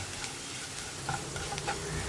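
A spoon stirs carrot and plantain frying in oil for a Kerala mezhukkupuratti, a steady close sizzle with light scraping clicks of the stirring, no voices.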